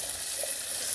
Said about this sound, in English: I've got some garlic getting a little too brown there in the middle